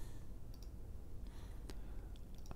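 A computer mouse clicks an export button, a few faint, light ticks that are close by, spaced irregularly over a soft, steady background hum.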